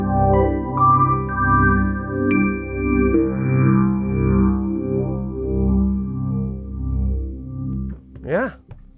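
Chords on a Rhodes MK8 electric piano run through chorus and phaser effects swirl and sweep in a slow, pulsing wobble. The notes ring and gradually fade, and a short voice sound follows near the end.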